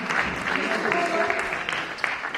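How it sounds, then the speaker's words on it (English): A crowd at a youth award ceremony claps for an award winner, steady applause with audible chatter and voices threaded through it. "can we just give another round of applause to Mr. Congo?"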